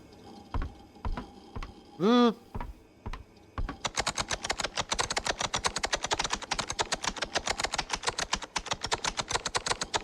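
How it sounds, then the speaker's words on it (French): Rapid, continuous keyboard typing clatters up close in a video game after a few scattered key taps and a short rising electronic tone. "The sound of typing is the message."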